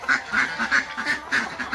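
Ducks kept for eggs quack in a rapid, repeated series of loud, close calls, several overlapping bursts in quick rhythm with no talking.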